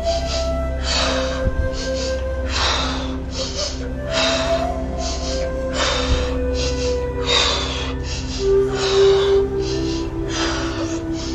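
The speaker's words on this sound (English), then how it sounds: "And breathing in through your belly." Slow, deep breaths drawn in through the belly during a guided relaxation, repeating in steady cycles of soft airy inhales and exhales over a low ambient music drone, with no talking.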